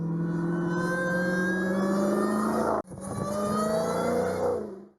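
A fast American car engine revs hard and close, rising steadily in pitch, cutting out for a gear shift, then climbing again before fading.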